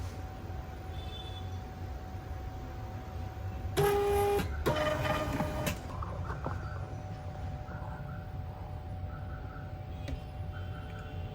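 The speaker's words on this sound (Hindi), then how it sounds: "हमारे लेवल प्रिंट होके आ चुके हैं, जैसे आप देख रहे हैं 2 लेवल प्रिंट हो गए।" A label printing scale prints two labels, giving a short mechanical whirr and clatter in the middle of an otherwise quiet, low room hum.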